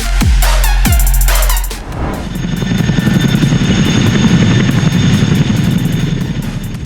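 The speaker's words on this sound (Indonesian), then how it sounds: "ada CH-47 Chinook yang merupakan helikopter angkut berat bermesin ganda asal Amerika" Loud CH-47 Chinook twin-engine tandem-rotor heavy transport helicopter with heavy rhythmic rotor chop at first, settling into a dense, roaring engine and blade drone that continues steadily.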